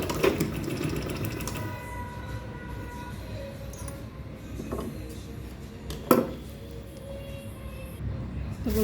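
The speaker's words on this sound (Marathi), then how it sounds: "आता हे चारी बाजूला आपण असं स्टिच करून घेऊ." A sewing machine stitches along the sides of a handmade bag in a domestic setting, whirring in short runs broken by pauses, clicks and a sharp knock.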